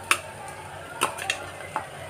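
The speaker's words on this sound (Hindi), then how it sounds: "अब हम इसमें डालेंगे टमाटर जिन्हें मैंने बारीक बारीक काट लिया है" Finely chopped tomatoes go into translucent sautéed onions in a pan for a dhaba-style aloo baingan curry, stirred with a few sharp spatula taps and scrapes over a faint, low sizzle, with no voices.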